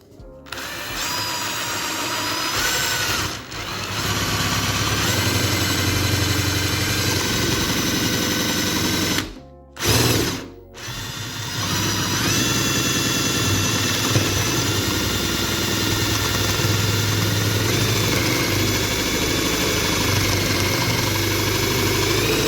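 A power drill fitted with a spade bit bores through wood, a loud continuous motor whine held for long stretches with two brief pauses where the drill stops and restarts.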